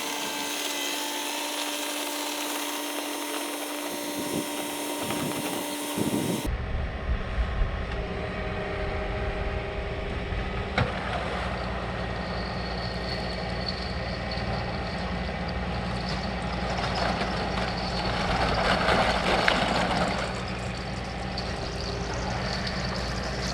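A John Deere 4052R compact tractor driving in four-wheel drive on a flood plain, its engine droning steadily and close after a sudden start, with a louder surge near the end.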